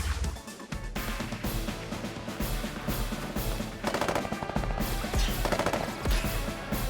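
Units firing guns in the turn-based strategy game Advance Wars 1+2: Re-Boot Camp, rapid machine-gun bursts in several volleys over game music.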